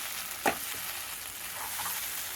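Kachu saag mixture stirred in a pan, with a steady low sizzle throughout and one short scraping stir near the start, close and fairly quiet.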